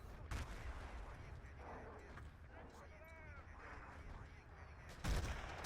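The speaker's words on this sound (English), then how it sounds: "Artillery gonna land from AR15." Artillery shells land in a Battlefield 2 conquest league match, with sharp blasts near the start and again near the end over constant battlefield rumble and a voice talking.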